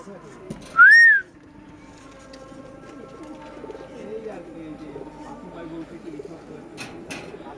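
Red Ice pigeons cooing softly in a low, continuous murmur, with one brief, loud rising whistle near the start and faint voices in the background.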